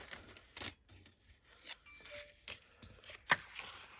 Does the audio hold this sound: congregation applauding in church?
no